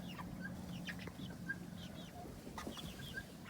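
A meat chicken clucks softly in short, scattered calls while held on a scale, close but quiet over a low background rumble.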